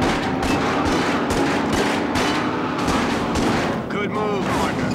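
Rapid gunfire in the video game Starsky & Hutch, dense bursts of shots cracking continuously and loudly throughout, with a brief pause near the end.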